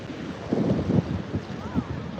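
Wind at a beach buffets the microphone in uneven gusts, a close, rough low rumble that swells and fades over a couple of seconds.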